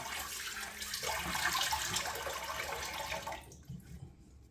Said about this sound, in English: Let's wet the face. Whoa. Put some more water in here.